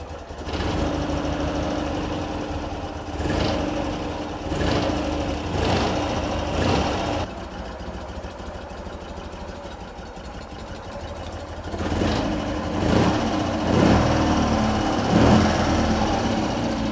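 1960 BMW R50 motorcycle engine idling in a garage, a continuous close putter with a steady rumble and periodic louder surges throughout.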